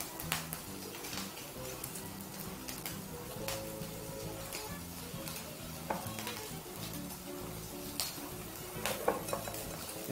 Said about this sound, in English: using a whisk, just proceed to mix everything together